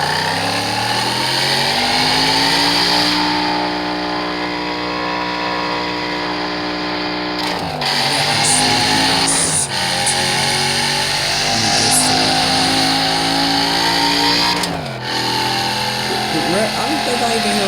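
A car engine in an engine sound app climbs through the revs toward redline in long rising sweeps, dropping briefly at gear changes before climbing again, loud and continuous.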